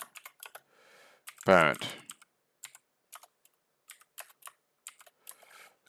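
Quick, irregular clicks of fingers typing on a computer keyboard, close and fairly quiet, broken by a brief spoken word partway through.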